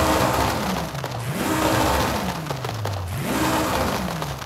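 A loud, gritty 1900 HP twin-turbo Ford Mustang RTR Spec 5 engine with anti-lag in Forza Horizon 5 revs up and down in repeated swells, the roar crackling and popping throughout.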